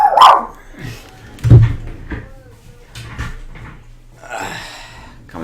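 A dog barks in short, sharp bursts close by, with a few whimpering or yelping sounds and quiet noises between them, while someone speaks briefly nearby.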